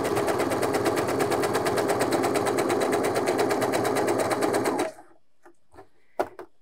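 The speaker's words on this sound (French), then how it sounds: "Je pose mon élastique, je tends mon élastique et je viens coudre." A sewing machine stitches stretched elastic onto fabric in a fast, even, rapid-fire run for about five seconds, then stops abruptly, leaving a few faint handling clicks.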